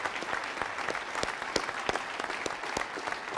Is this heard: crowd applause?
yes